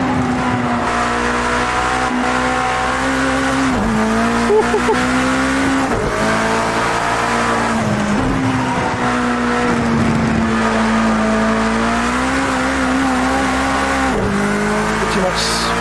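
Race car in a racing video game accelerating out of the pit lane with its tyres spinning, a loud steady engine drone rising in pitch through repeated gear shifts, with a voice talking over it.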